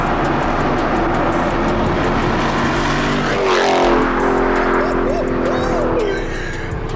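A widebody Dodge Charger Hellcat drives down a street, its engine note rumbling loud and close, with a rise in revs partway through and people talking over the engine.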